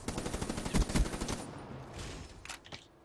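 An automated turret in Call of Duty Black Ops 3 fires rapid bursts of gunfire, a dense rattling volley at moderate distance that thins out into scattered shots and fades toward the end.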